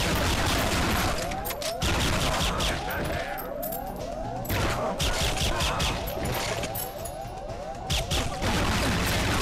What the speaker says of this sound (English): You're shooting me way too much now.